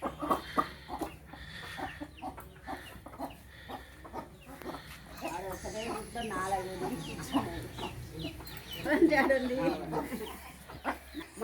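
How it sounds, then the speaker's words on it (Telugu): Hens and small chicks in a village cluck and peep in scattered bursts close by, with people talking over much of it. "చిన్న కోడి పిల్లలు ఉన్నాయి ఒకటే గుట్లో మూడు కోళ్ళు పొదిగినాయి"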